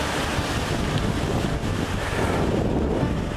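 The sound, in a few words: strong wind on a hilltop during a windstorm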